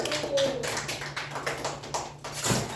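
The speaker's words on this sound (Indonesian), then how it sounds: "beri tepuk tangan untuk kelompok 1." A classroom of students claps for a student group during a micro-teaching practice lesson: a steady wash of many hands patting together, fairly close and continuous, with a faint electrical hum underneath.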